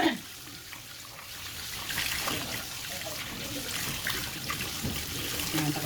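Tap water runs steadily over raw pork chops being rinsed clean in a kitchen sink, a continuous close splashing trickle with people talking over it.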